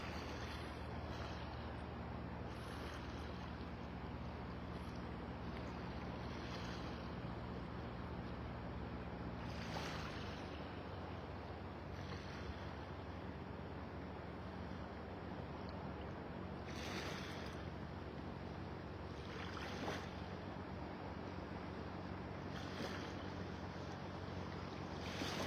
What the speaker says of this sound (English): Your boat coming in the pass.